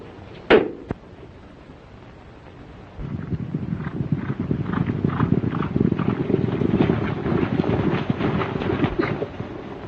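Horse hooves clip-clopping in a steady, rapid rhythm, starting after a sharp knock and continuing close and moderately loud to the end.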